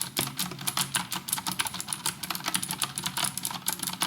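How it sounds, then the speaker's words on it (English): Rapid, loud clicky keystrokes on an IQUNIX mechanical keyboard with blue switches, a fast uneven stream of sharp taps heard up close with no talking. "So hear how it sounds when you are typing."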